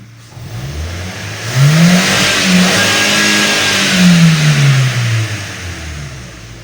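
Ford Focus 2 with a 1.4 engine, recently repaired, cranks and fires, then revs up and down in loud sweeps close by, with a steady running note underneath and no talking.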